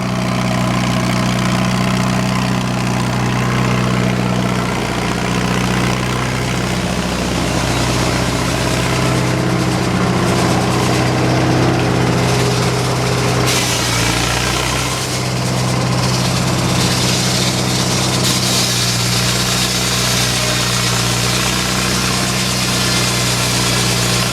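Old-fashioned sawmill engine at the Mason Dixon Show, running while a log is cut: a loud, continuous low drone with steady vibration throughout and no talk.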